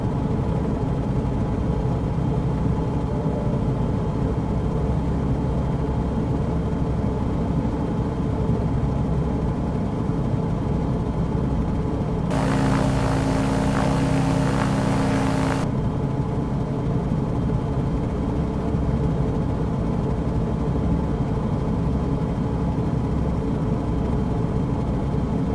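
Small aircraft engine droning steadily in flight on a two-mile final approach through bumpy air at about 55 knots, a constant loud hum with a brief louder burst midway.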